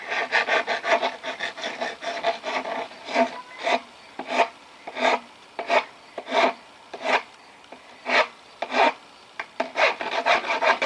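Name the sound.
cast iron pipe edge rubbed against concrete wall to remove burr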